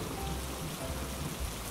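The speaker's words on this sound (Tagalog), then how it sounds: "Umuulan!" Steady rain falling outdoors, a dense, even hiss of drops hitting surfaces with no break, fairly loud and continuous throughout.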